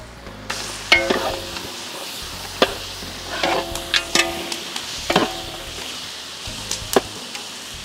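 Mutton sizzling in a pan with salt, turmeric, chilli powder and masala for gongura mutton curry, with a steady fry under repeated clinks and scrapes of a spoon stirring at close range.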